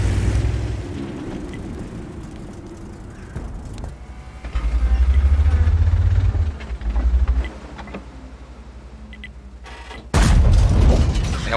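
Several heavy booming tank cannon shots in World of Tanks with deep low rumble, spaced apart, the last one loud and sudden near the end, amid game-like mechanical background.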